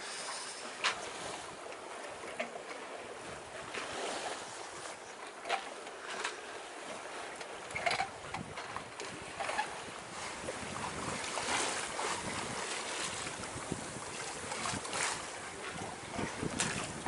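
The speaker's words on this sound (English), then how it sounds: "I've been sailing all day." Sailboat under way at sea between Great Harbour and Chub Cay, with wind buffeting the microphone and waves sloshing against the hull in irregular gusts and splashes, fairly quiet overall.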